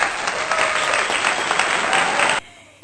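Applause from a small indoor gathering welcoming a guest visiting Jepara from Demak, a dense steady burst of many hands clapping for over two seconds that stops abruptly and leaves a faint room tail.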